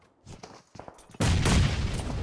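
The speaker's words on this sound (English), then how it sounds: "a couple of more grenades being thrown at." Explosions and gunfire in a PUBG Mobile esports grand final match, scattered soft thuds and shots first, then a sudden loud blast with sustained rumbling debris noise.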